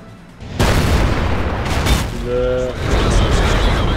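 A tank cannon fires in the online tank battle game World of Tanks, a single sharp, heavy boom followed by rumbling game battle noise and a short mechanical whine.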